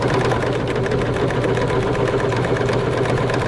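A serger sewing machine stitches fabric along a curve, a steady, loud mechanical whir with a continuous low drone running without pause.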